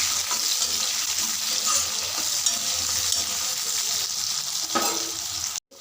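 Cut okra frying in oil in a pan for a green mango curry while being stirred, a continuous bright sizzle with scraping stir sounds that stops abruptly near the end.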